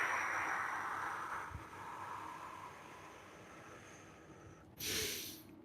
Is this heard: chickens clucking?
no